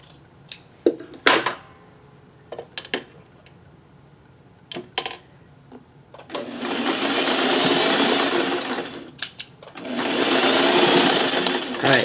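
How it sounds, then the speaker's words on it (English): A sewing machine stitches a leftover fabric strip in two steady, close whirring runs of about three seconds each, with scattered clicks and handling knocks between them and no voices. "Let me sew something onto that."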